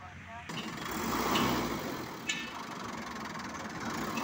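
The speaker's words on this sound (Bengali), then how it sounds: "গাড়িটি কিন্তু রানিং অবস্থায় আছে দর্শক, ইঞ্জিনের সাউন্ডটা শুনতে পাচ্ছেন" A Toyota TownAce-style 12-foot light truck idles steadily at a steady mid-level rumble, with a brief sharp click partway through and faint surrounding noise.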